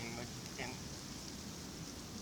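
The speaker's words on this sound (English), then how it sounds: "but also it is raining right now" Steady rain falls outdoors as a dense, even hiss that fills the whole stretch without pause, close and constant, with a faint voice briefly underneath.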